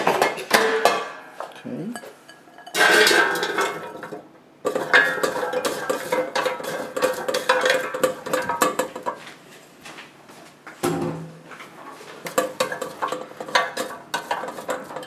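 Fries dropped into a Rosewill oil-less air fryer basket give a few close clattering, rattling knocks and light clinks, with a brief spoken word among them.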